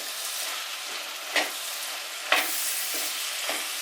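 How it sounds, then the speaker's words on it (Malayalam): Spoon stirring radish pickle in a clay pot, a steady low scraping and wet sizzle-like rustle with a few sharper clacks against the pot, close and continuous, no talking. "ഇനി നമുക്ക് ഇതൊന്ന് ഇളക്കി എടുക്കാവേ"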